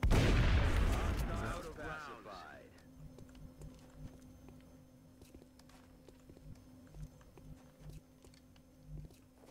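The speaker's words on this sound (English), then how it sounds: "I'm gonna try and shoot it." A heavy, loud burst of weapon fire in the turn-based strategy game XCOM Long War Rebalance opens the moment, then trails off into quieter ambient hum and scattered soft footstep-like taps.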